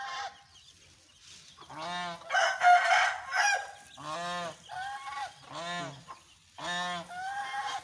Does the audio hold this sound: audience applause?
no